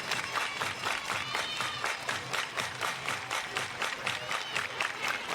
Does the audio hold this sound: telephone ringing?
no